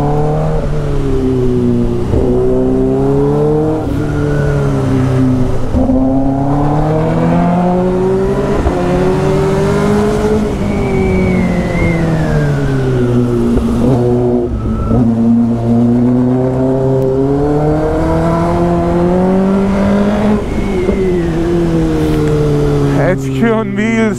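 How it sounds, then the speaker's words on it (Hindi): Kawasaki ZX-10R and BMW S1000RR sport bikes racing, with a Benelli 500 nearby, their engines droning and rising and falling in pitch as they rev through gears, close and steady with a voice talking over them. "जावेद भाई को ओवरटेक मारते हैं, बाकी बेनेली 500 तो बहुत बढ़िया चला रहे हैं भाई साहब"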